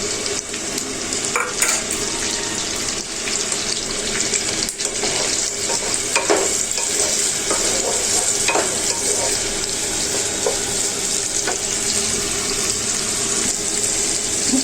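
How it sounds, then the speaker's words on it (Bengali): Onion, green chili and garlic fry in hot oil with a dense, loud, continuous sizzle, broken by repeated scrapes and clatters of stirring across the whole stretch, with no talking. "কিছুক্ষণ কাঁচামরিচ পেঁয়াজ রসুন এগুলো একটু ভাজতে নেব"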